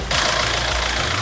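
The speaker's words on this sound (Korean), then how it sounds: "일단은 엔진으로 열면은 엔진 소리가 들리죠." A used car's engine runs at a steady idle under an open hood, a continuous even drone with no talk over it.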